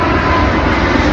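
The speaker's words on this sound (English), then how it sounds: "Yep, you see the plane." An airplane flying over London produces a loud, steady broadband roar that stays constant throughout, with no voices.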